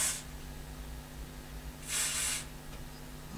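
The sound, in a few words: contact cleaner being sprayed into a Mackie mixer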